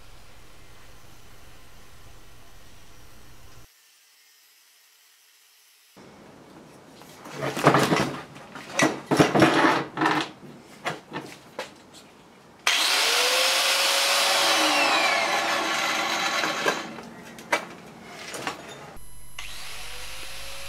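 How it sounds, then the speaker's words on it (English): A power tool cuts through the bottom half of steel bicycle forks for a recumbent trike build, harsh grinding bursts and a loud sustained whining cut with pauses between, heard close. "Here I am just about to cut the bottom half of the forks off"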